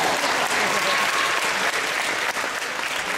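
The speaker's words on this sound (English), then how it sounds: "You can clap for yourselves" Basketball fans in a school gym clap for themselves after a senior boys' provincial championship, a dense, loud wall of steady applause from a large crowd that holds throughout without letup.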